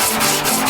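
Duraglas body filler being hand-sanded with 40-grit paper wrapped around a one-inch dowel rod. A brief burst of loud, close, rasping back-and-forth strokes comes in a quick, even rhythm.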